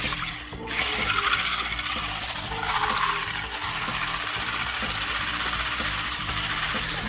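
Electric mixer whipping cream sweetened with cherry syrup for a French pastry dessert, a steady close motor whir with a grinding, rattling texture running throughout without speech.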